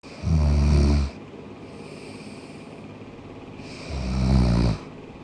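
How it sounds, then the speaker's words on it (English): Snoring from a person lying down for a nap, two loud, rattling inhaled snores about three seconds apart with quieter breathing between, close to the microphone. "he fake snoring?"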